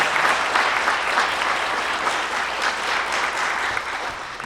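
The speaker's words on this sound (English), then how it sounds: "Can you guys give them a big round of applause for what they're doing here tonight?" An audience at a political debate for Georgia House seats claps steadily and loudly, a dense, even round of applause that holds for several seconds with no voices on top.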